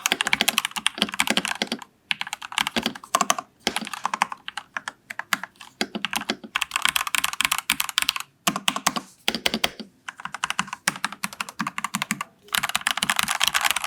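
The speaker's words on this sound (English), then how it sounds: "I'll even probably throw in a typing test for you guys again" Steady, fast clacking of mechanical keyboard keys, close and crisp, in bursts separated by brief pauses, with no voices.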